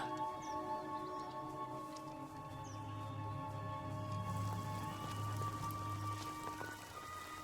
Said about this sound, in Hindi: ये बारिश भी नहीं रुकती।